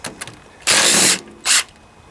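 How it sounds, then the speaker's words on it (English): A wrench works short bolts on a Toro rear-engine riding mower transmission, making a few close, loud bursts of metallic ratcheting, one long and one short, amid quiet clicks and no talk. "this one I'm going to have to hold it on the other side with a wrench"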